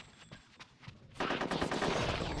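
Rapid automatic gunfire in the Nintendo 64 game Conker's Bad Fur Day, a loud close burst of quick repeated shots that begins abruptly after a quieter stretch of faint game sounds.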